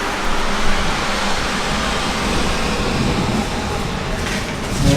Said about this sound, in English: Man, it is pouring out